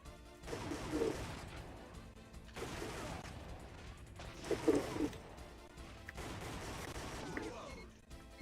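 Bursts of rapid gunfire from a light gun shooter game played with a Sinden light gun on a MiSTer FPGA, four clustered volleys separated by short pauses, moderately loud with some background sounds.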